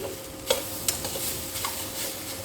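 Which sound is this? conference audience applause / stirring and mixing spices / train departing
stirring and mixing spices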